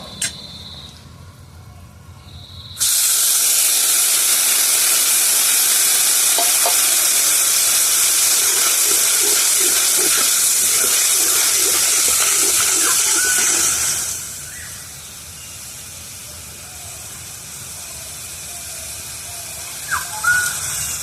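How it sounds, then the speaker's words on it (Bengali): Water is poured into a pan of sizzling spice masala for bhindi posto, bursting into a loud, sustained hissing sizzle that eases to a quieter simmer after several seconds. "এখন একটু সামান্য একটু জল দেব।"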